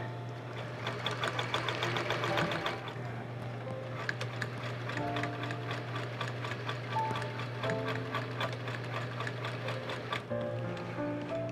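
A sewing machine stitches continuously with a fast, even mechanical clatter over a steady motor hum, running close and loud with a brief change in pace partway through.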